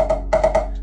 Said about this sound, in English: So a regular pad sounds like this